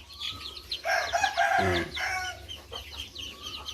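Chickens raised in a pit-style chicken pen cluck and squawk busily in a lively, overlapping chorus, with one louder burst in the middle, heard close with no talking.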